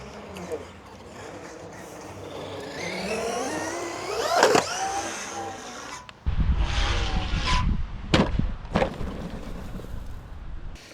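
An Arrma RC car (Quake or Mini Kraton) drives and pulls a wheelie at a skatepark, its electric motor whining up and down in pitch, with wheel and impact clatter and people talking nearby.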